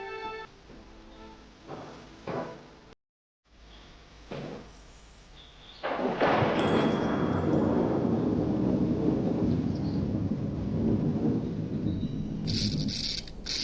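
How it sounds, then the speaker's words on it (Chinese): Thunder rumbles through a rainy storm at first, then a loud, steady wash of heavy rain takes over and fills the rest of the scene without a break. "下雨了呀。"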